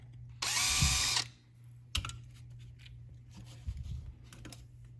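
An electric drill whines loudly for about a second, then stops, drilling a hole in a Dura Spark ignition distributor part; a few clicks and handling knocks follow in a quiet room.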